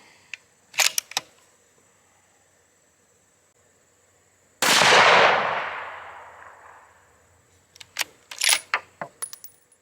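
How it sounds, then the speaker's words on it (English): A single loud gunshot from a .22 Creedmoor rifle at an outdoor range, a sharp blast that rings off and decays over about two seconds, preceded and followed by quick mechanical clicks and clacks of the bolt being worked. "let's fire another one here"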